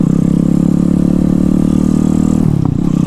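A loud Honda Grom motorcycle with a swapped 212cc Zongshen engine holds a steady rumbling drone, then shifts pitch near the end as the throttle changes.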